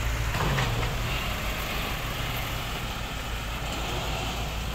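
A six-wheel truck rolls up at a levee construction site on a melon farm, a steady loud engine drone and rumble throughout with a faint hiss at the start.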